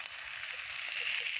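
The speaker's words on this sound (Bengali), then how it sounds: "হালকা করে অল্প হলদির গুঁড়ো এবং লবণ দিয়ে ভেজে নিতেছি সর্ষের তেলের মধ্যে।" Food frying in mustard oil seasoned with turmeric and salt gives a steady, close hiss and sizzle that runs unbroken for the whole short stretch, with no voices over it.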